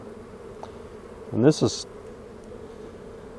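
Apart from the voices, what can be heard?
honey bees swarming in a hive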